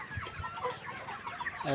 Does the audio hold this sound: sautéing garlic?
no